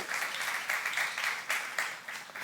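A church youth congregation claps during a sermon, a moderate wash of many hands with gently rising and falling intensity, heard somewhat distant and fairly soft, without speech over it.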